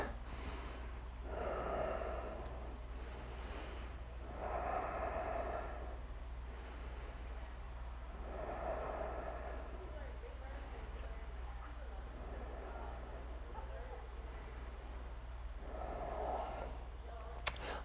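Slow, deep breaths during a yoga pose, several long inhales and exhales rising and falling in a steady rhythm, fairly faint over a low constant hum.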